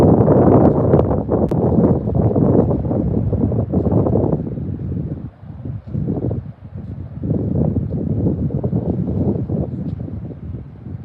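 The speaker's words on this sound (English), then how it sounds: "We had a crazy ass storm out here. It got real windy, which is not normal." Strong gusting wind from an unusually windy storm, loud and continuous with dense rumbling buffeting against the microphone, easing briefly midway before building again.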